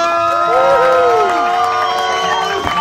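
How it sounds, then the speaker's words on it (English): A live thrill-show audience at a daredevil and sword-swallowing performance roars with loud, sustained cheering, whoops and shouting layered over applause, a dense wash of crowd noise throughout. "this thunderous roar of applause"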